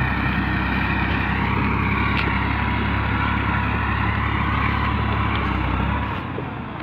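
A farm tractor running out in a field at dusk, a loud, steady low rumble with constant engine drone that drops away abruptly near the end.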